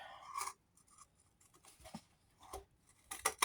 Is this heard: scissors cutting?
yes